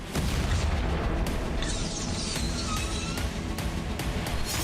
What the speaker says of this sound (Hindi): कार में अचानक धमाका हुआ